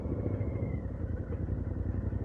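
Royal Enfield Interceptor 650 with an air-cooled engine on a test ride, a low, steady engine rumble with throbbing pulses, fairly faint and without speech.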